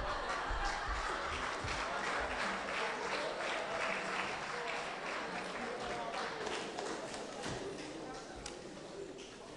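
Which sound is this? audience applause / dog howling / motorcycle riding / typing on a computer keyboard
audience applause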